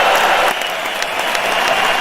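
Warm audience applause on a bass music sound show, a dense, steady wash of many hands clapping close and loud with no talk over it.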